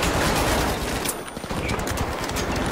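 Dense automated turret fire in the arena shooter The Finals, a continuous rattling barrage of rapid gunshots filling the whole span, loud and close with no pauses.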